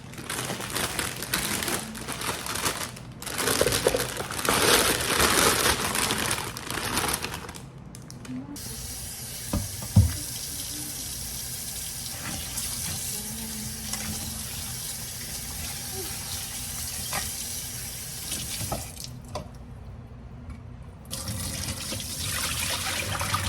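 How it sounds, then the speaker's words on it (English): Broccoli is washed under running tap water in a kitchen sink: a close, steady spray and splash broken by brief pauses and shifts in the flow, with a few faint clunks. "I buy my broccoli from Sam's Club, and it comes pre-washed, but I don't trust them, so I'm still gonna wash mine."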